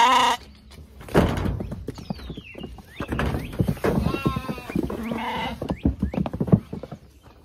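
Goats or sheep bleat several times at close range during a worm check, with wavering cries over handling noise, shuffling and a few soft thuds.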